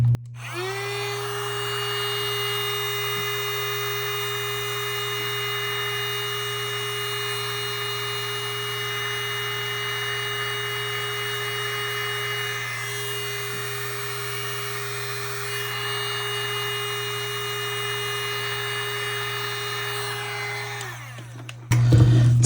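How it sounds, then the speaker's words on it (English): A heat gun blows steadily on a strawberry-shortcake-themed resin coaster, a continuous motor whine with a constant airflow hiss that holds unchanged for about twenty seconds before cutting off. "I'm just going to take my heat gun to it and see if I can mix it around"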